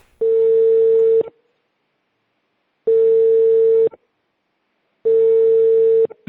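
Ringing on a telephone call that goes unanswered: three identical electronic tones, each about a second long, repeat with even pauses between them and nothing else in the gaps.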